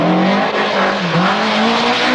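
Rally car driven fast on a stage by Mikkola, a loud, close engine note rising and falling through gear changes with a brief tyre scrabble, no voices over it.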